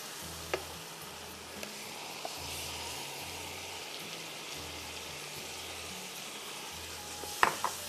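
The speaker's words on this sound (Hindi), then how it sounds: "इतना भूने 3-4 मिनट के प्याज का कच्चापन ख़त्म हो जाए।" Onions fry in a pan, a steady close sizzle and crackle continuing throughout, with a couple of sharp clinks of a utensil near the end.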